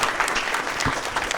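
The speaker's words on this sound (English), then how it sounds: "so Dr. Siracusa, let's give her a round of applause." Audience applause for a doctor after a talk on bladder health in multiple sclerosis, a brief burst of steady, fairly close clapping with no voices over it.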